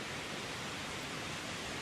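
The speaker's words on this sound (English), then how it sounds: "and beautiful waterfalls" Jungle waterfalls on the road to Apollo give a steady, soft broadband rush of falling water, constant and fairly faint with no other sounds.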